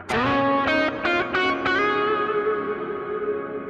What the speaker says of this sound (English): Just a really dark reverb.